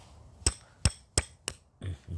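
Four sharp metal hammer strikes on a roughly 20 cm roofing-panel screw while punching a hole, evenly spaced and close, then a duller scrape at the end.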